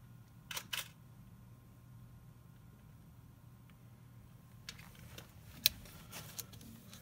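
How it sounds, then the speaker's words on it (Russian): Camera shutter firing on a camera fitted with a Petzval 58mm f/1.9 art lens: a few sharp mechanical clicks, quiet and close, set against a near-silent room. "Ну и, конечно же, сработает затвор."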